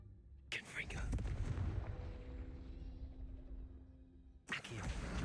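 A Confringo fire spell blasts in Hogwarts Legacy, a deep booming burst that rolls into a sustained rumbling roar before a second sharp hit near the end, loud and up front.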